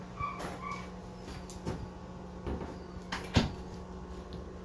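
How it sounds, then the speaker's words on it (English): An interior door being shut indoors, a few soft knocks and a firmer thump near the end, faint and close over a steady low hum, with no talking. "Let me close this door."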